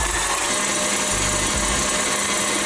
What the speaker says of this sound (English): Use a whisk attachment for the next step. And beat the eggs until they're light and fluffy.